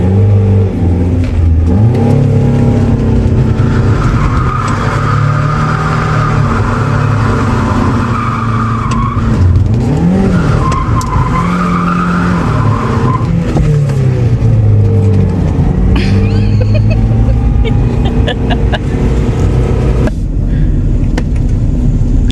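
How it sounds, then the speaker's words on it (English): A salvaged Mazda Miata with a slipping clutch is driven at high revs, its engine loud and close, droning and rising and falling in pitch with the revs as they climb without gaining much speed, for over twenty seconds. "That's all clutch slipping right there."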